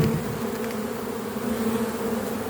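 Dense, steady hum of honeybees swarming around an open hive at the peak of the season, a loud continuous drone holding level throughout with no voices.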